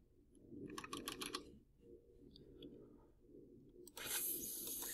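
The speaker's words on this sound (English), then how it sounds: "And let's type in wine magazine." Quiet typing on a computer keyboard, a short quick flurry of key clicks followed by sparser taps, close and faint, ending in a brighter burst of noise.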